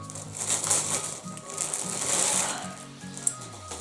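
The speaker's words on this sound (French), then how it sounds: "Je suis désolée pour les bruits de papier." Paper crinkles and rustles as an order is unpacked, a steady close-up crumpling and shuffling with a few sharper crackles, no talk.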